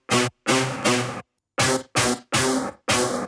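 A dry, unprocessed Serum synth lead plays a phrase of seven bright staccato notes in a short rhythmic pattern, loud and isolated with silence between notes.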